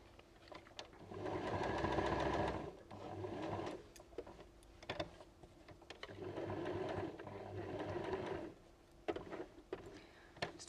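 Sewing machine stitching a small fabric elephant purse along a pencil line around curves, running in two steady bursts of rapid mechanical whirring with a brief pause and clicks between, close and alone.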